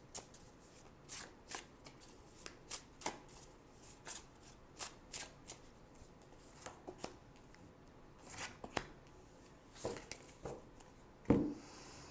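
Tarot cards being shuffled and drawn by hand, a quiet close series of soft riffles, slaps and flicks spaced irregularly, ending with a brief handling rustle.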